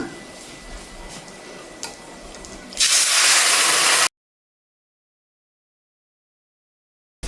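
A mixture of rice flour and coconut for thiruvathirai kali comes to a boil in a pan. Soft bubbling and ticking build to a loud, close hissing burst lasting about a second, then the sound stops abruptly.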